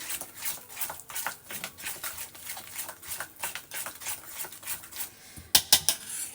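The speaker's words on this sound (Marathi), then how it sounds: "याला छान असं फेटून घ्यायचं आहे" A whisk beats eggless cupcake batter with milk in a bowl, giving a steady run of quick, light clinks and scrapes against the bowl at close range with no talking.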